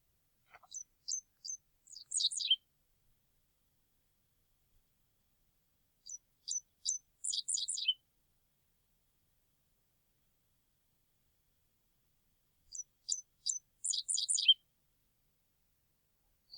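Dickcissel bird song in three separate phrases: a few sharp introductory chips followed by a quick buzzy trill, clean and isolated against silence, repeated every several seconds.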